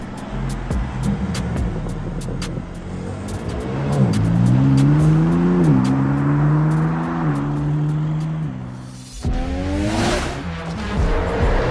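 A new BMW M4 G82 accelerates hard on the road, engine note climbing through rising revs, a sharp gearshift break, then pulling again, loud and close with no talk.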